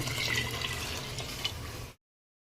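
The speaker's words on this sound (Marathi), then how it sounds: "2 ग्लास पाणी घालायचंय." Water pours steadily into a pot of rice mixed with tomato and coriander, a continuous close splashing wash that runs for about two seconds and then stops abruptly.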